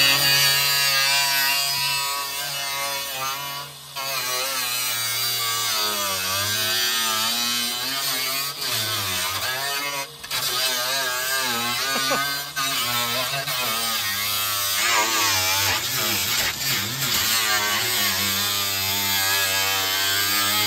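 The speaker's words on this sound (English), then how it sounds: "First time using the grinder." Angle grinder cutting into a Ford car fender, a loud, continuous high whine held for about twenty seconds with wavering pitch as the disc bites the metal, close and without speech.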